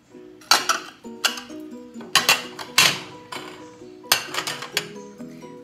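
Strawberry-pattern dishes from a thrift store set clink and clatter as they are handled, several close, sharp ceramic knocks and rattles in bursts, with no talking.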